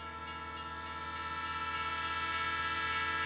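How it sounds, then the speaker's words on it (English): A passing train rumbles along steadily with a faint rhythmic clatter, growing slightly louder over a few seconds, heard alone at moderate distance. "you hear a train go by"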